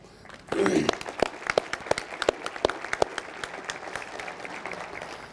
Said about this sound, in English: this is outstanding work and deserves a round of applause